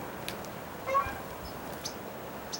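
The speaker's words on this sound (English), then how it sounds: "here comes some geese, Canadian geese" Canada geese honking beside a river, a single clear honk in the middle with a few fainter calls around it over steady outdoor background noise.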